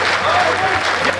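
Applause from a Hindi poetry recital audience at a kavi sammelan: a brief, loud, dense burst of steady clapping, with a voice faintly audible over it.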